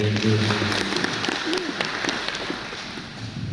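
An Indonesian audience claps in a sustained round of applause, moderately loud at first and tapering off, with a brief voice and some low hum at the start.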